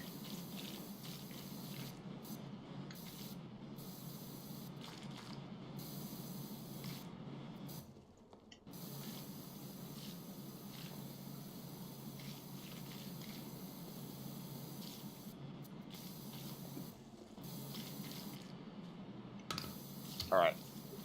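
A pressure washer spray nozzle in the video game PowerWash Simulator 2 gives a steady, even hiss of water that runs almost the whole time, with only short breaks where the spray stops.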